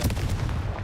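Hogwarts Legacy's Confringo fire spell explosion: a brief, dense booming blast with low-end rumble, loud and close throughout its short span.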